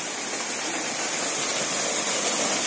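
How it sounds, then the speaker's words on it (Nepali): Falling water at the Magar waterfall in Miklajung, Morang, gives a continuous, even rushing roar that fills the whole stretch, alone without voices. "झरना यार।"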